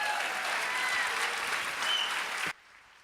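Audience applause for a family folk music group at a kids' event, a full, steady round of clapping from a crowd that cuts off abruptly near the end, leaving quiet room tone.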